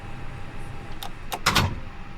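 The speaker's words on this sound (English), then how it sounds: "I'm going to close my door" The cockpit door of a FlyByWire A320 in Microsoft Flight Simulator shuts with a few quick mechanical clicks and a short latching thud, fairly close and with no talk over it.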